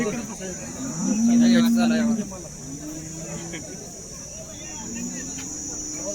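Jersey cows at a busy cattle market in Baramati, one drawn-out low moo standing out near the start, with crowd voices and talk continuing underneath and a steady insect-like hiss in the background.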